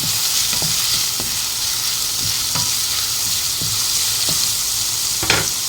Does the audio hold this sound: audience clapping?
no